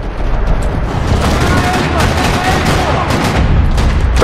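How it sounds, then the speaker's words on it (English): Dense gunfire rattles through a parking-lot shootout in the video game Max Payne 3, a loud, continuous fusillade of overlapping shots and booms with no break. "Another parking lot rattling with gunfire."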